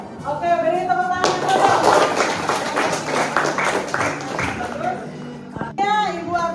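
Students clap briefly in a classroom after a group presentation, a loud burst of scattered claps that stops abruptly, with a teacher's voice speaking before and after it.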